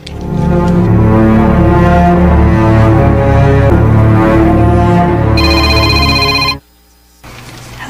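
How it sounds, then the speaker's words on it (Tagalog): A telephone rings loudly and steadily in a domestic scene, its electronic trilling tone layered over background music before stopping abruptly, followed by a brief quiet gap. "Hala, day, nanawag pag-usab si Babe, di bo?"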